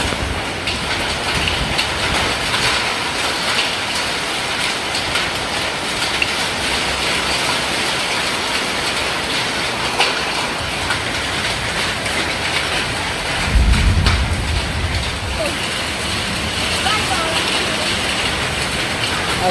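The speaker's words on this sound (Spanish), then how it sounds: "Así son los granizos que caen con fuerte tormenta." Hail pounding down in a strong storm in Tacachico, a dense, steady roar of impacts that fills the whole clip, with a brief low thump near the end.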